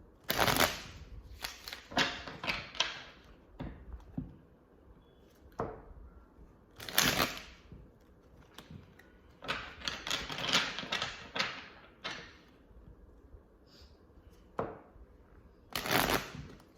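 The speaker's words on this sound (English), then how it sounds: "Let's shuffle the cards for Scorpio." Tarot cards are shuffled in repeated bursts of riffling and flapping, close up, with short pauses between rounds and no talking.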